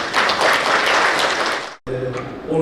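An audience claps warmly to open a breakfast lecture forum, loud dense applause that cuts off abruptly, followed by a voice beginning to speak.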